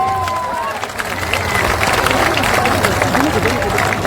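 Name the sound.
crowd applauding loudly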